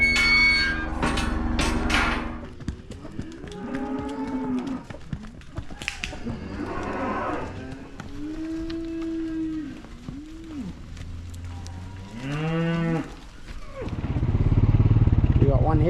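Cows on a farm moo in long, drawn-out calls, several animals overlapping near and loud over a steady engine-like rumble, with people talking now and then.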